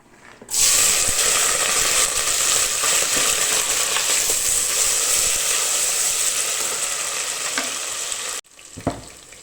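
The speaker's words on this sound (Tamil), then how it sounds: "எண்ணெயை ஊற்றிட்டு நம்ம சின்ன வெங்காயம் கருவேப்பிலை பச்சை மிளகாய் இதை போட்டு தாளிச்சிக்கலாம்" Shallots, curry leaves and green chillies drop into hot oil in a cooker, setting off a sudden loud, crackling sizzle that holds steady for about eight seconds before cutting off, followed by a brief clatter.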